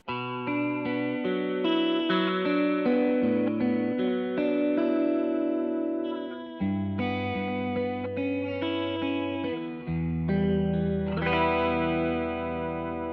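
Clean electric guitar chords and arpeggios through a Julianna stereo chorus pedal, a shimmering, swirling chorus wash, played alone and steadily loud, with a wide, wobbly stereo character.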